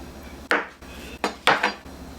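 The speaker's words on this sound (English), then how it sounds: "We're going to go ahead and we're going to cut our eggs." A knife cuts boiled eggs for seafood potato salad, giving three sharp clicks and scrapes against a board or dish, close and clear with no talking.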